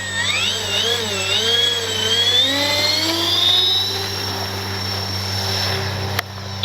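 Electric motor and propellers of an RC Flightline OV-10 Bronco model plane in flight, a steady whining buzz that rises and falls in pitch as it passes, fairly loud and then fading slightly.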